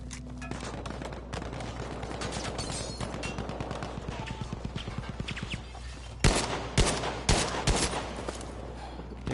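Video game match gunfire: steady rapid bursts of automatic fire with a rhythmic rattle, then several louder, sharper single shots close by near the end, over a constant low background rumble.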